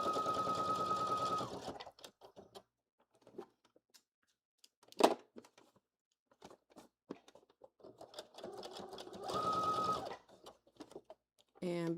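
Sewing machine stitching a blazer sleeve seam, running in two steady buzzing bursts at the start and near the end, with quiet handling sounds and a few words of talk in between.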